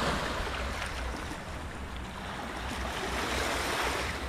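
Waves wash steadily onto a beach beside the big Dunge River, a continuous moderate surf roar with no voices.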